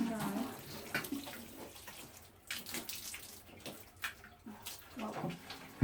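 A watering can pours water onto seedlings in short, uneven splashing bursts separated by brief pauses, fairly quiet and close.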